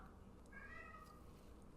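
A cat gives a single short, faint meow indoors, set against steady low background noise.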